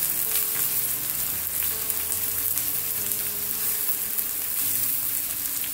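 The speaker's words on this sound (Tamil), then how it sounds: "வட்டி வச்சுருக்கிற இந்த வெங்காயத்தை இதில் போடுறேன்" Sliced onions with a little salt frying in a pan with oil, a steady close sizzle with faint stirring scrapes, no talking.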